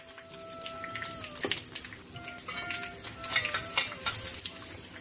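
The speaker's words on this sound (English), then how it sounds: "Let it fry a bit. Add the red chilies." Red chilies frying in oil while tempering a South Indian fenugreek kuzhambu, a soft steady sizzle broken by scraping stirs and clinks of a utensil against the pan, close and moderately loud.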